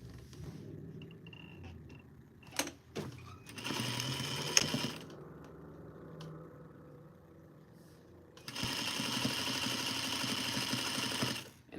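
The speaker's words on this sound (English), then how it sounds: "So now we're gonna sew the other shoulder together." A sewing machine stitches a shoulder seam on a Simplicity 8059 duster, running in two loud steady bursts, the second longer, with quieter handling and rustling of fabric in between.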